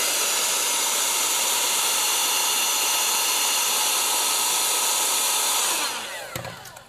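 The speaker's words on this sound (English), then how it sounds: "Take my heat gun." A heat gun blows a steady, loud, rushing hiss over heat shrink tubing on a car stereo wiring connection. It runs unbroken for about six seconds, then cuts off, leaving a few small handling knocks.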